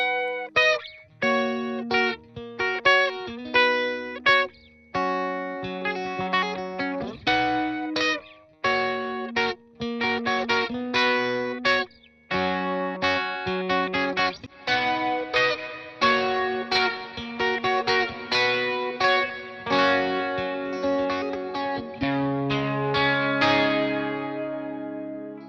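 Electric guitar played through a NUX MG-101 amp modeler with booster and reverb, a boosted, reverb-heavy tone, a mix of plucked notes and chords with gaps between phrases, loud and close.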